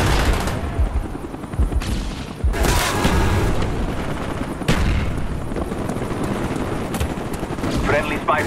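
A Cobra attack helicopter's rotor chop runs throughout a Call of Duty: Black Ops multiplayer match amid sharp bursts of gunfire and booms, with voices talking over the chaotic battle noise.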